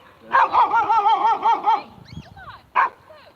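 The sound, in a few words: dogs barking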